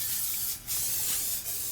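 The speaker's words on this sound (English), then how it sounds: "So I have canola spray." Canola oil cooking spray hisses from an aerosol can in a kitchen: a close, breathy spray broken into three short bursts with brief pauses between them, alone with no talking.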